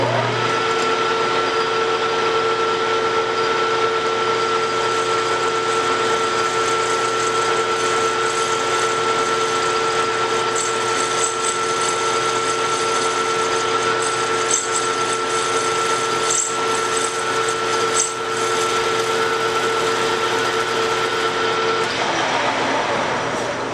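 A sharp high-speed steel cutting tool machines metal with a steady, unbroken mechanical whir and a constant tonal hum, running loud and close for the whole stretch with no talking.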